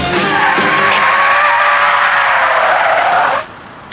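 A Lexus braking hard from 70 mph, tyres screeching in a loud sustained squeal for about three seconds before cutting off abruptly into quiet.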